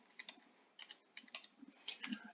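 Fingers type on a computer keyboard in short bursts of quick keystrokes separated by brief pauses, close but fairly quiet, with no talking.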